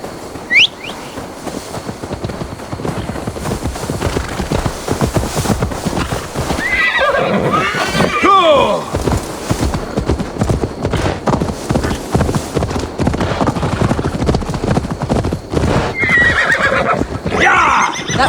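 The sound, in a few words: horse neighing and hooves in Assassin's Creed Valhalla video game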